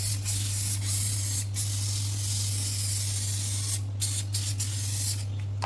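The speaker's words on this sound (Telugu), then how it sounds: "నేను ఆలివ్ ఆయిల్ని అయితే స్ప్రే చేస్తున్నాను." Olive oil sprayed from a spray bottle in a home kitchen, a continuous close hiss running steadily over a low hum, with several short sharp bursts near the end.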